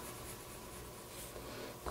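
A pencil shades dark areas of an eye drawing on paper with firmer pressure, giving a quiet, continuous scratchy rubbing close by and no speech.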